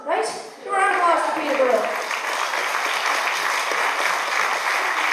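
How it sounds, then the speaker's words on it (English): Audience applause fills a live folk concert hall at Market Hall in Peterborough, a steady dense wash of clapping that swells after a brief singing voice at the start and holds loud throughout. "Give a round of applause for"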